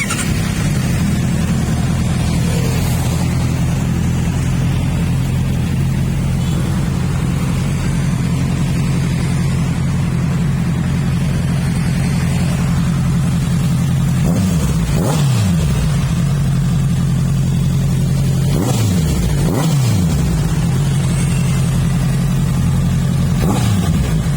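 A Honda CBR650R motorcycle engine runs loudly and steadily at close range, with a few sharp throttle blips rising and falling over the idle.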